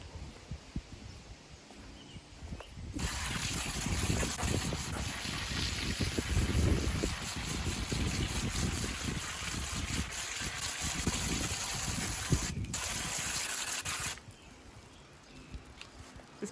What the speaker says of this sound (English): Then we're gonna hit this with the hose real quick